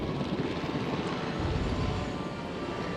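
A helicopter in Jurassic World Evolution flies with a steady, loud, broadband rotor and engine roar and a low rumbling throb, sustained throughout without speech.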